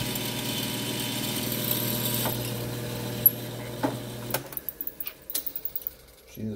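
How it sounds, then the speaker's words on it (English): A drill press whirs steadily as it drills small holes in aluminum held in a jig for an 80% lower build, then winds down into a run of short clicks and clatters nearby. "We're drilling little holes in aluminum."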